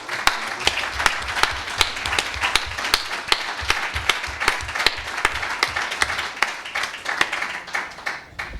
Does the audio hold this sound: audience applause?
yes